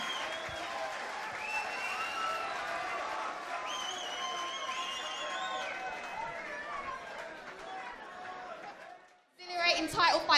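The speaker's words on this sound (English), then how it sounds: "Keep your applause going, folks, for our valiant opponent" Crowd applauding and cheering after a featherweight title fight at a Battlezone Pro martial arts event, a steady roar beneath an announcer's voice, breaking off briefly before a loud fresh burst at the end.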